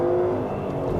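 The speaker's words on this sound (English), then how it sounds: "And that torque from the V8" A 2016 Ford Mustang with a naturally aspirated 5.0 V8 pulls under acceleration, its engine a loud, steady, low harmonic drone throughout.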